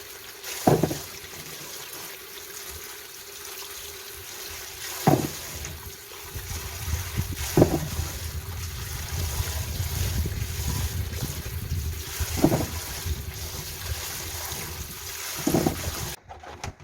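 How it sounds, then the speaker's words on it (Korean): About five kilograms of green plums (maesil) are washed by hand in water, a soft continuous sloshing and trickling with several louder splashes and knocks at irregular intervals. "이거 매실 5kg를 깨끗이 이렇게 씻어서"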